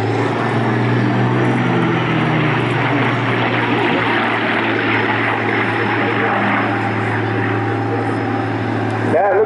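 A P-51 Mustang propeller plane drones overhead at the Bournemouth Air Festival, a loud, sustained engine roar with a steady low hum, while a commentator talks over it.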